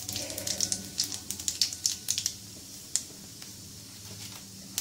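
Panch phoron, cumin and radhuni spices crackling in hot oil, a burst of sharp popping and spitting sizzles that thins out after a couple of seconds into sparse crackles, close up with no talk.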